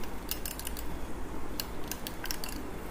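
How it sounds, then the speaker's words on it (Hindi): A yogurt and tikka masala chicken marinade is mixed in a bowl, with steady wet squelching and scraping and light clinks of a utensil against the side, close and continuous. "इसको हम मैरिनेशन को अच्छी तरह मिक्स कर देंगे"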